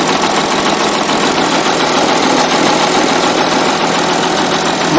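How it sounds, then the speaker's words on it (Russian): An Audi Allroad 3.0 TDI V6 turbodiesel (CZVA engine) idles with an abnormal grinding noise, a steady, loud, dense engine rumble and rattle running throughout with no talking. "Обратился человек с тем, что есть посторонний шум в работе двигателя."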